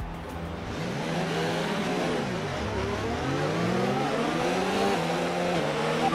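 A Formula 1 car in the F1 2019 racing game revs hard and climbs through its gears, a loud, close engine whine rising and dropping in repeated sweeps with no talk.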